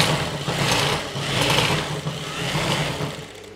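A sewing machine stitches wide elastic into the waistband of an Afghani salwar, a close, fast mechanical whirr running in uneven bursts that ease off at the end.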